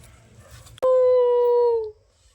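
A dog lets out a single loud, clear howl lasting about a second, sharp at the start and fading at the end, against quiet background murmur.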